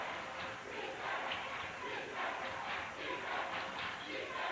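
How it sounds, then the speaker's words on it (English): A high school student section cheering at a Saline basketball game in 1997, a steady roar of crowd noise with swelling shouts, heard from a distance through an old broadcast. "the Saline crowd is into it with the student section on their feet"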